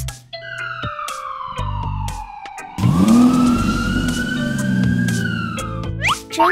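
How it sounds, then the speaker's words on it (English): A wailing emergency siren sweeps up and down, loud and close, over music and rumbling traffic. "ambulance."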